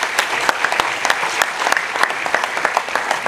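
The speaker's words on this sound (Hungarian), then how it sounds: "Köszöntsék egy tapssal Bújtor Judit asszonyt!" An audience applauds steadily and densely to welcome Judit Bujtor at the reopened Bujtor István Stage in Tihany, with no speech over the clapping.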